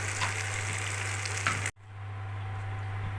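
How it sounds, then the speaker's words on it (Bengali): Chicken cheese balls deep frying in hot oil give a steady, close bubbling sizzle that cuts off abruptly partway through, then returns as a softer, even fizz. "এবার এটাকে আমি ডিপ ফ্রাই করব"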